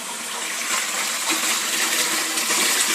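Aquaponics grow-bed siphon draining, a steady close gushing rush of water flowing down to an outlet underneath, continuous and moderately loud, no talk.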